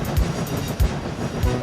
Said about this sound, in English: James quickly sped out of the yard with his train